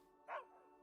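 A dog in the video game Palia gives a single short, faint whimpering yelp over a quiet background hum.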